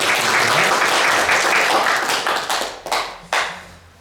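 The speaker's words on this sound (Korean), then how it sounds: "감사의 박수 함께 드리겠습니다" A church congregation applauds the choir after a hymn, dense sustained clapping filling the hall that thins out and breaks into a few last scattered claps as it fades.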